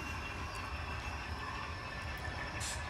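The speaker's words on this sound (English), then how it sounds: "we're going to drop the train right here" A train on the Oak Hill Industrial Railroad rolls steadily with a low rumbling drone and faint metallic tones, a distant hiss rising near the end.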